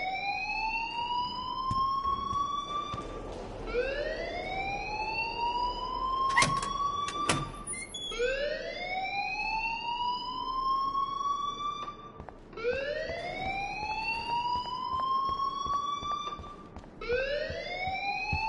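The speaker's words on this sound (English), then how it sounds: "please turn off that alarm since that's your job." A school alarm blares inside the video game Life Is Strange Remastered, a loud rising siren-like wail repeating in steady sweeps of about five seconds, continuous and alone with no voices over it.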